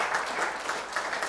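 Audience applause at a photography festival award function, a short burst of steady clapping from a seated crowd filling the room, with no voices over it.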